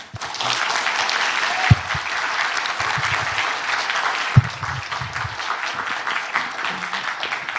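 Loud, sustained applause from a lecture audience at a Busan District Court culture course, dense clapping filling the room for several seconds with a couple of sharper thumps along the way.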